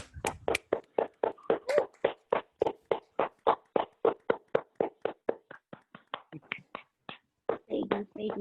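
Participants on a Zoom call clap in a steady run of sharp, evenly spaced claps, close and distinct, with a voice joining near the end.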